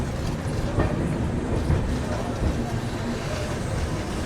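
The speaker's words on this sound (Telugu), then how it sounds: "భువనేశ్వర్కి మన ట్రైన్ ప్లాట్ఫామ్ 4కి అయితే వచ్చింది" Silchar–Coimbatore express rolling into platform 4 at Bhubaneswar, heard from a crowded general coach: a dense, steady rumble and clatter of wheels close by, with a faint murmur of voices underneath.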